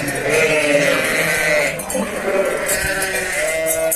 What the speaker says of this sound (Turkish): Koyunları yeme saldık